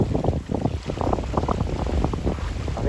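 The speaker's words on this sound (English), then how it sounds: "It's a good wind. We're both under full sail," A sailboat under full sail with no engines and a good wind sounds like steady, loud wind buffeting the microphone, with rushing water and sloshing against the hull underneath.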